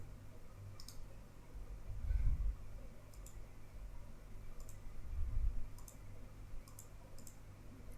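Soft mouse clicks while logging in to a Palo Alto dashboard, five or six sharp, faint, close taps spaced over several seconds above a low background hum, with no talking.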